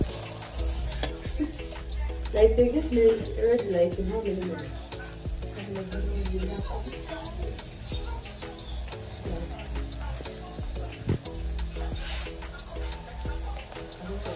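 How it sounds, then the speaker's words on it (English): Grasshoppers frying in a pan give a soft, steady sizzle under conversational talk, with faint outdoor bird calls in the background. "we are frying them"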